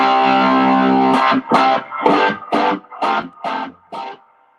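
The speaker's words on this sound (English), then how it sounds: "reverb that you're hearing, my secret weapon, has always been this old reverb tank" Distorted electric guitar through a Fender Pro Junior amp and an old tube reverb tank holds a chord, then strikes a series of rhythmic stabs, each ringing into a splashy spring-reverb tail before fading out.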